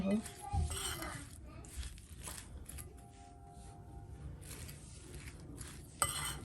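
Fish pakora ingredients being mixed in a bowl, quiet clinks and scrapes of a utensil against the dish in uneven bursts, with a sharper knock near the end, no talking.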